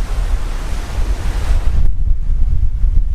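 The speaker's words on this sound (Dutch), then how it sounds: "Leeg strand." Waves wash onto an empty beach while wind buffets the microphone with heavy low rumble, a constant roar of surf with no voices, the hiss of the water dropping off partway through.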